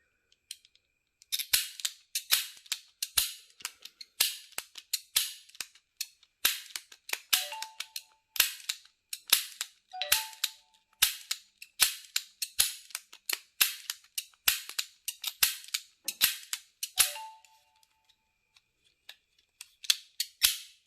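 A toy cap gun revolver fires caps in a rapid series of sharp, loud cracks spread across the whole stretch, with short pauses between bursts and faint mechanical clicks of the rotating cylinder.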